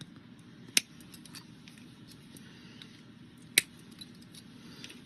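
Two crisp, isolated snips about three seconds apart as cutters trim excess electronic component leads right at the solder, in an otherwise quiet room.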